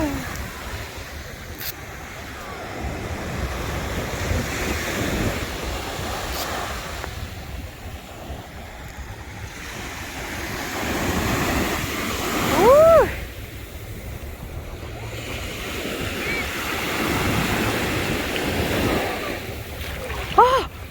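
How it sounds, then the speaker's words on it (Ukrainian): Sea waves roll and wash ashore in repeated surges, with steady wind buffeting the microphone. "просто шум настоящого моря"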